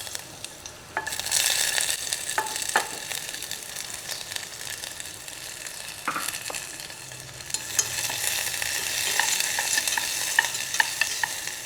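Sliced ginger, shallots and coriander roots go into hot oil and burst into a loud, bright sizzle that crackles steadily, with occasional clicks of stirring throughout.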